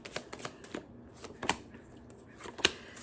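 Everyday Witch Tarot cards being shuffled and handled, a series of crisp, close papery riffles and taps in irregular bursts, with no talking.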